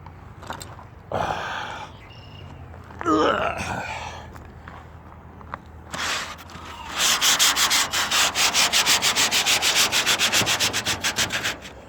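Sandpaper rubbing over car body panels and fender metal being prepared for repainting, with scattered scrapes and handling noises early, then a steady rapid back-and-forth sanding rhythm for the last five seconds, close and fairly loud.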